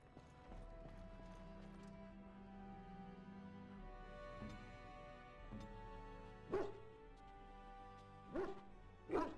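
In the Dragon Age: Origins video game, a dog gives a few sharp barks in the last seconds, over a sustained low musical drone with faint ambient sounds.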